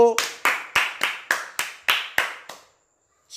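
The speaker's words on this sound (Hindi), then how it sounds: "बहुत बढ़िया उत्तर दिया भाई तालियां बजाओ" A group claps in unison, about nine sharp even beats in a steady rhythm, then the clapping stops into silence.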